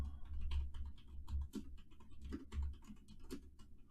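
Computer keyboard keys tapped in an uneven burst of clicks, close and fairly quiet, with no voices.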